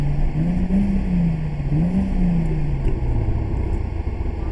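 A turbocharged MK4 Toyota Supra engine revs twice over a loud, steady rumble, its pitch climbing and falling with each push of the throttle.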